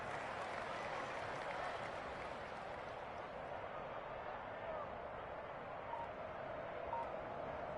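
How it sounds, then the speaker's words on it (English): Home crowd applauding in a Madden NFL football video game after a Buffalo Bills victory, a steady distant wash of clapping and crowd noise, fairly faint, with a commentator's voice talking over it. "And the home crowd applauding"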